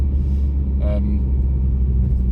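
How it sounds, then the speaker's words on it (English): A deep, steady engine and big-exhaust rumble from a moving 2000 Saab 9-5 2.3 Aero, low and continuous, with a brief voice over it. "I like the sound of this. It's got a big exhaust on it"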